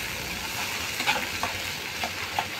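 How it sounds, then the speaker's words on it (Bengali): A spoon stirs spiced tomato pickle masala with chilli and salt in a hot pan, giving a constant sizzle broken by a few soft scraping strokes close up. "এবারে কিছুক্ষণ ধরে নেড়ে নেব।"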